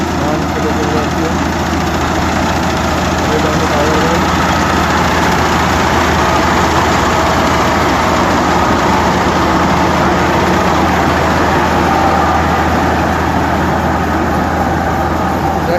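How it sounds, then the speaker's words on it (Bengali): A combine harvester cutting rice in a farm field, its loud steady engine drone running continuously throughout, with some indistinct voices mixed in. "যে মেশিন তৈরি হয়েছে, মেশিনের মাধ্যমে আমাদের ধান কাটা চলছে।"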